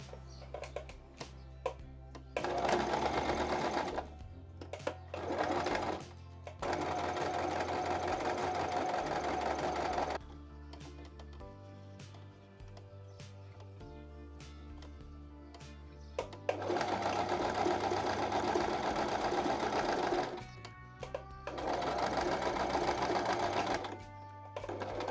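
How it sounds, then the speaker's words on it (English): A sewing machine top stitches an apron hem in several bursts, its fast mechanical whirring running in loud stretches of a few seconds each, separated by short pauses with a low motor hum. "we're just gonna give it a nice top stitch, and as we go, we're gonna go folding the hem underneath it"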